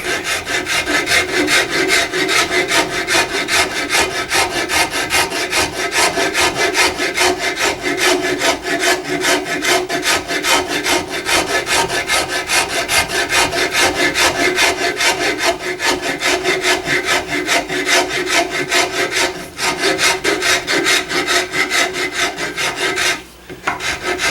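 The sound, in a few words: rasping wood with a number 49 rasp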